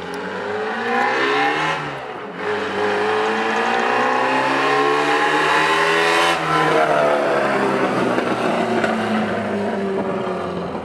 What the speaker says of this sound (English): It was made in 1963. It was a first gen Triumph Spitfire.